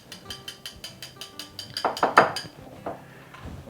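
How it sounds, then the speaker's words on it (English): A utensil stirs a powdered mix in a bowl to break up lumps, making a quick, steady run of close scraping and clinking strokes that grow louder and denser partway through. "So you want to make sure you get all the lumps out of that and just kind of mix it."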